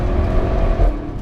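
Inside a Porsche Panamera Sport Turismo or Audi RS6 Performance, a sports car engine pulls hard under acceleration, a loud low growl rising briefly over road roar.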